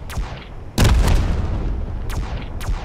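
Weapons firing in the game Space Engineers during a drone fight: several heavy booming shots, one large blast followed by a long rumbling decay, then two more rapid bursts.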